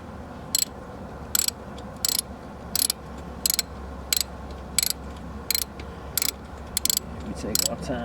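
A ratchet wrench tightens bolts on a lawn tractor, giving a steady series of about a dozen short, sharp clicking bursts spaced evenly under a low background hum, close and distinct.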